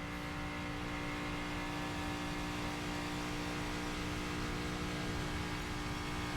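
NASCAR Nationwide Series race cars running flat out during practice at Daytona, a continuous dense engine roar with steady droning tones and no break for over six seconds.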